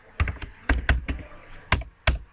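Quick bursts of typing on a computer keyboard, with irregular clusters of crisp key clicks and thunks separated by short pauses. It sounds close and clear, and nobody talks.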